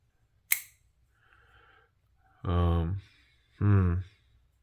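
A Gerber Paraframe folding knife blade flicked open with nylon washers, a single sharp click, followed by someone speaking quietly in two short bursts.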